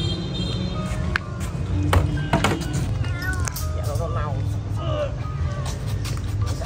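A pregnant mother cat meows at a slaughterhouse, several short wavering cries mixed into busy background noise while a person talks over them.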